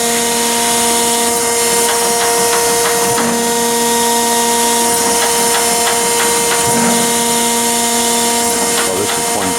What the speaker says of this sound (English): Oh, this is plunge grinding.